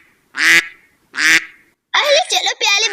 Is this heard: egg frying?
no